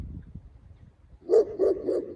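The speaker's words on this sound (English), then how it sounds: "Why are you barking at me?" A dog barks three times in quick succession, fairly close, after a moment of low rustling.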